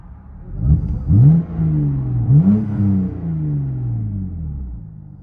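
2008 BMW Z4 3.0L inline-six with a muffler delete, revved several times from inside the car, each rev a deep rising roar that falls back, close and loud with no talk.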